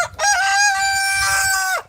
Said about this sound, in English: I did not think this was a rooster, but it wants to